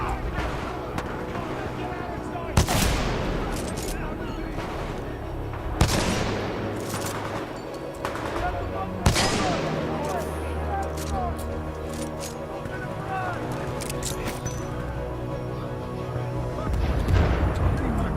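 Supporting gunfire and artillery in Titanfall 2 rumble through a dense battle mix, with sharp booming impacts punctuating steady firing; a voice speaks over part of it.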